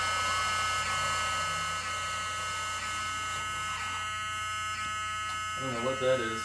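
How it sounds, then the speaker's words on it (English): A smoke alarm's steady electronic buzz drones throughout, with many harmonic tones, and a brief voice-like wobble near the end. "That's a smoke alarm."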